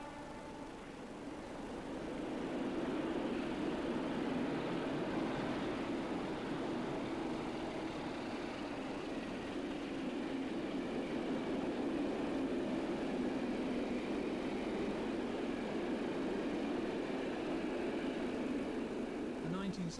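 British Rail Class 33 diesel locomotive with a train rolling past, a steady broadband rumble and rail roar building up over the first seconds, then holding loud and even to the end.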